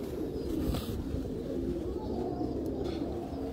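A Heera Laal breed pigeon coos softly and repeatedly amid a busy, low background hum.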